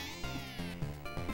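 A cat meows in the PC Engine video game Be Ball, a short cluster of high, wavering synthetic meows repeating over background game music, with no talking.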